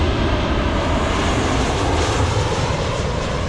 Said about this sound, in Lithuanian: Atskrenda lėktuvas.